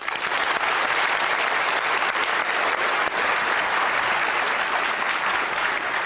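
Loud, dense audience applause welcoming a guest onto a football discussion show, a sustained even roar of clapping from a large crowd with no break.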